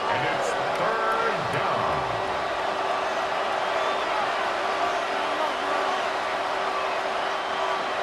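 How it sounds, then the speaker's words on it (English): Stadium crowd noise in the Madden NFL 26 football video game, a Broncos vs. Steelers wild card simulation: a steady, distant roar with a few faint whoops, under a commentator's voice. "The crowd making their presence felt."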